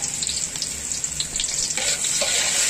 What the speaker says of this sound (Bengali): তেলটা যথেষ্ট পরিমাণে গরম হয়েছে, এখন আমরা এখানে 4টা পেঁয়াজ কুচি করে নিয়েছি, দেশি পেঁয়াজ ও পেঁয়াজ কুচিটা